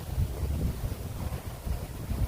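Strong typhoon wind from Typhoon Carina gusts steadily against the microphone, a loud low rumbling roar that surges and dips with no speech.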